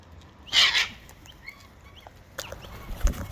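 Backyard chickens give a loud, sharp squawk near the start, followed by fainter scattered clucks and soft bird sounds close by.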